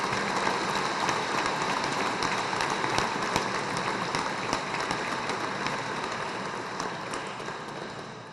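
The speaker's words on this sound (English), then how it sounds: "Let's have a round of applause for all the hard work they've done." Sustained audience applause at a City of Cleveland Italian American Heritage Month ceremony honoring committee members, a dense, even patter of many hands clapping steadily for several seconds before tapering slightly.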